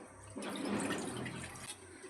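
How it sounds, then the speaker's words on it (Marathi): Water poured into an iron kadhai to boil eggs for an egg curry, a steady broadband splash lasting about a second and a half, close and moderately loud, with no talking. "कढईमध्ये घालूया आपण पाणी."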